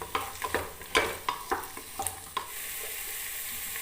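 Bottle gourd being stirred and fried in a pan, with a steady sizzle under a series of sharp spatula scrapes and knocks for the first few seconds, then sizzling alone.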